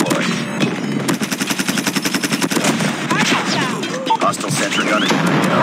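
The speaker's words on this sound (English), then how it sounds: "Sentry gun deployed." Rapid automatic gunfire rattles in bursts during a Call of Duty Mobile domination match, loud and close, mixed with sharp impacts, game effects and announcer-style voice callouts.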